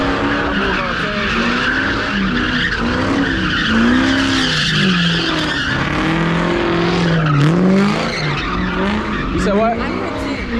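Car tires squeal and skid loudly at a legal pit car meet, a continuous wavering screech with engine roar, close and dominant throughout, with voices faintly underneath.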